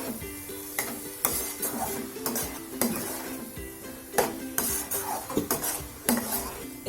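Cabbage curry stirred in a pan, a spoon scraping and knocking against the metal in repeated strokes over a soft steady sizzle, close and fairly loud.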